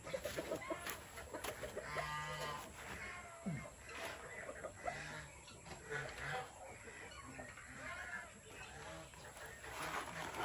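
Chickens clucking in a poultry cage left open, several hens calling in short repeated clucks close by, with occasional louder calls over a busy farmyard background.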